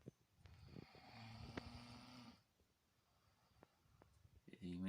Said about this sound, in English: he snores like a pig